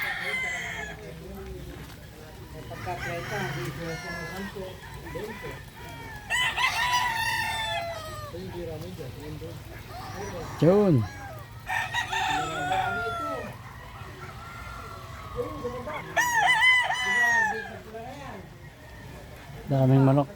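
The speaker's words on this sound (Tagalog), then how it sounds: "Ang daming manok" Many chickens on a rainy farm visit cluck while roosters crow in repeated bursts, some near and loud, others farther off, with a person talking briefly between the calls.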